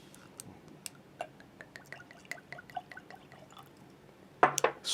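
13th Colony Small Batch bourbon poured into a glass, a series of soft drips and glugs ending in a brief louder splash, close by.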